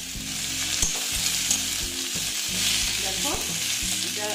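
Young jackfruit frying lightly in hot oil, with a steady close sizzle broken by the repeated scrape and clatter of stirring.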